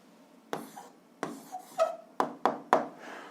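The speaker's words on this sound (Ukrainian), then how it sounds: "Записуємо відповідь. Пишемо відповідь." A pen writes an answer on paper, a quiet series of short scratching strokes in an irregular rhythm, close and otherwise silent.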